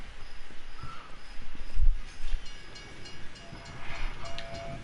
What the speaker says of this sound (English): I hope you are smart enough to avoid being hit by a train